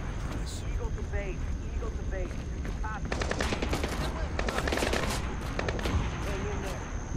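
Rapid bursts of automatic gunfire rattle in clusters over a steady background roar, with scattered single shots between the volleys, in the video game Splinter Cell: Blacklist.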